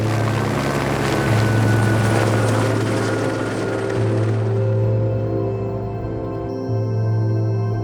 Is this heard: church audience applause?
no